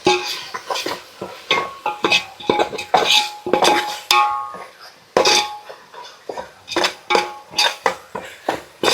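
Biryani masala and garam masala are sautéed in oil in a pan for chicken biryani. A metal spoon clinks and scrapes against the pan in close, rhythmic strokes.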